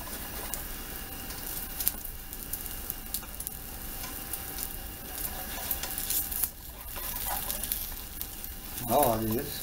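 An omelette frying in a pan, with a steady close sizzle and occasional scrapes and taps as it is loosened from the pan, under a brief bit of indistinct nearby activity.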